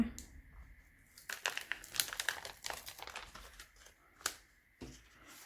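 Self-adhesive book-covering film crinkles and crackles close up as it is smoothed onto a postcard, in quiet, irregular bursts of plastic rustling with a few sharper snaps.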